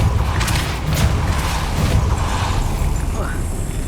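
A spell cast in a wizard video game bursts out as a boomy thump with a rushing whoosh, one heavy hit among dense game noise with no voice over it.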